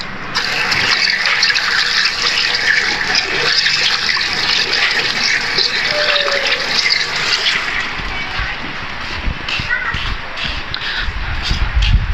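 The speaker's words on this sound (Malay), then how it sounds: "Saya kejap saya cuci tangan saya dulu." Water runs steadily from a tap as hands are washed in a car workshop, a loud continuous splashing rush with the flow shifting and breaking up toward the end.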